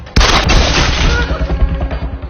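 A single sharp gunshot cracks out in a film scene, loud and close, its boom decaying into a brief rumbling tail.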